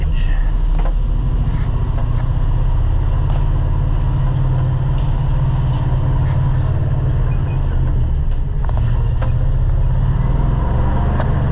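Truck with a Road Ranger transmission pulling away during bean harvest: a loud, steady, low engine drone with faint clicks and rattles throughout.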